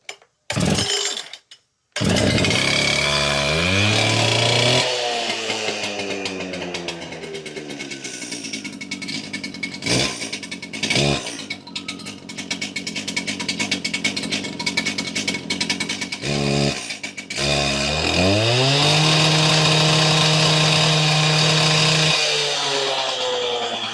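A Stihl/Makita concrete saw with a new head and piston pulls over and fires up, its two-stroke engine revving loudly and unevenly, cutting out briefly, then restarting and screaming at high revs close by.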